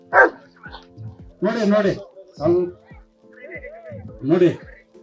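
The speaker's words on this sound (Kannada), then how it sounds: "ಆ ಡಾಗ್ ಯಾವ ತರ ಅಟ್ಯಾಕ್ ಮಾಡುತ್ತೆ ಅನ್ನೋದನ್ನ ನೀವು ನೋಡ್ಬೇಕು" Police dog at a temple fair demonstration barks in loud, sharp bursts, several barks spread over a few seconds with brief gaps, close to the microphone.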